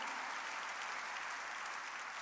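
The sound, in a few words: congregation clapping in church service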